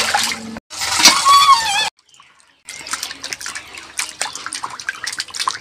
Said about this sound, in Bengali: আমি ফুলকপিগুলোকে ভালো করে 6-7 বারের উপরে ধুয়ে এনেছি।